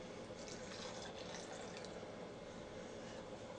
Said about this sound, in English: Adding 3/4 of a cup of hot water.